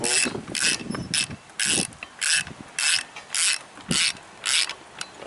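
A ratchet clicks in regular bursts while it tightens flywheel bolts during an engine flywheel installation, each ratcheting stroke a close, crisp run of clicks separated by brief pauses.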